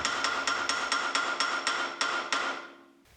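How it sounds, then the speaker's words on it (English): A regular hammer strikes metal parts to straighten them during a Land Cruiser 79 swivel hub rebuild: about ten sharp ringing blows in a steady rhythm, close and clear, followed by silence. "I resorted to using a regular hammer to straighten them."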